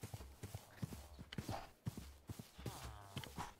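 Horse hooves clip-clopping in a Minecraft modpack game, a quick irregular run of hoof clops, fairly close and moderately loud, with no talking over them.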